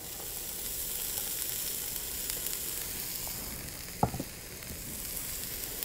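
Celery, onion and green pepper fry in about a third of a cup of oil, a steady close sizzle and hiss with a single sharp clack of a utensil against the pan.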